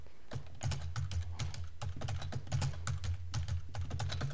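Fast, steady typing on a computer keyboard while entering a shell login on a network load balancer console, crisp close key clicks in continuous bursts with no speech.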